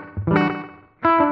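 Guitar notes run through a tape delay pedal set with feedback, with short, close repeats smearing into a room-like wash; two bursts are separated by a brief dip.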